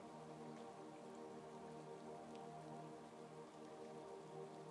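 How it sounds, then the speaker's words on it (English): Steady rain falls and patters on surfaces with scattered drips, a continuous, even wash of sound throughout with no voices. "The rain begins to fall."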